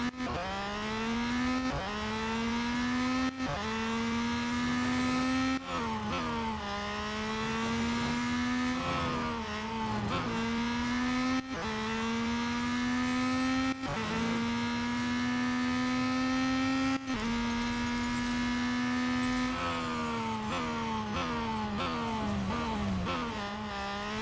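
A race car from Real Racing 3 laps the long circuit of the Porsche test track, its engine whining up through the gears in repeated rising sweeps with sharp drops at each shift, steady and loud throughout.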